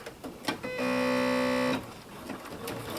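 A sewing machine starts stitching a blouse, a steady loud mechanical whir that begins abruptly and runs for about a second before stopping, close up, with no talking.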